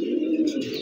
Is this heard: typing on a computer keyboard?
no